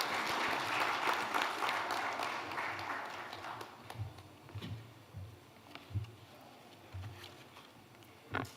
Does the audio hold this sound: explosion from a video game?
no